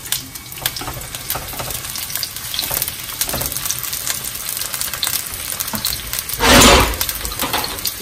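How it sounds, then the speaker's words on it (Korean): Carrots and zucchini frying in a generous pour of oil in a frying pan, a loud continuous crackling sizzle with occasional stirring scrapes and a brief louder hissing surge near the end, no voices. "프라이팬에 불을 켜시고요. 오일을 이번엔 조금 넉넉하게 두르시고요. 당근을 넣어주시고 같이 호박도 넣어줍니다."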